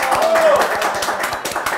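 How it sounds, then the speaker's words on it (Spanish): Studio applause greets a guest on a Spanish-language entertainment show, quick light clapping from a few hands heard beneath a presenter's voice talking over it, close and fairly loud. "Un aplauso por favor para Noemí"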